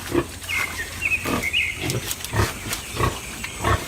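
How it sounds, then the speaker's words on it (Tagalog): Piglets grunt and snuffle while eating madre de agua leaves, with short low grunts recurring irregularly, wet chewing and rooting noises, and occasional faint squeals, all fairly close. "Ito po, kinakain na po yan ng ating mga alagang biik."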